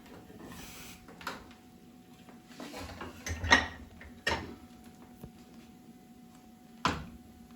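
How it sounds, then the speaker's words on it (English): Plates and cutlery clink while lamb and rice is dished into a pasta bowl, a few sharp scattered knocks and scrapes over a quiet kitchen hum, with no talking. "The next thing is to dish it up."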